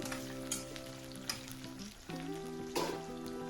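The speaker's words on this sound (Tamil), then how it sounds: "கொஞ்சம் மீடியமான ஃப்ளேமில் கத்திரிக்காயை நல்லா வதக்கி எடுத்துக்கலாம்." Brinjal pieces sautéing in oil over a medium flame for an oil brinjal curry: a soft, continuous sizzle with occasional stirring clicks and scrapes, heard up close with no voices.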